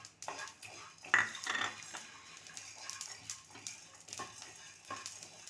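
Sesame seeds and peanuts roasting in a hot pan with dried coconut, giving off faint, scattered crackles and light pops at a low level throughout.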